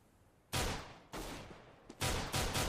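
AK rifle shots in a competitive first-person shooter match, several loud close bursts of gunfire in quick succession with brief gaps between them.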